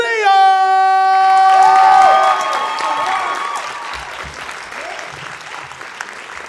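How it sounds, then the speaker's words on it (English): A comedy club crowd breaks into loud applause and cheering as a comedian is introduced, following a brief sustained musical tone, then the clapping and whoops settle into a steady, gradually fading roar. "Please clap it up"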